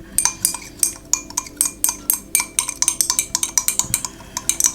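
Lemon and aloe vera gel stirred together in a bowl with the handle of a spoon, a quick series of clinking, scraping taps against the bowl in an uneven rhythm.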